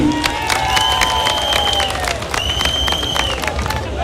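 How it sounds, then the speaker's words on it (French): A crowd at a Guinean award ceremony applauds with brisk, continuous clapping, while high sustained calls ring out over the clapping. "que je vous prie d'applaudir"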